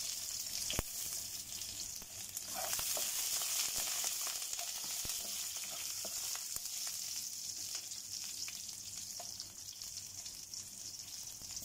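Onion sautéing in a pan for sinigang, a steady bright sizzle that holds evenly throughout, with occasional soft clicks and a faint stir or two, close and continuous, no talk.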